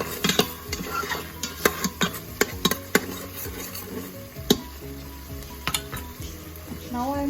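Pasta sauce seasoned with black pepper is stirred in a pan, with a spoon clacking and scraping against the metal in irregular knocks over a steady close sizzle.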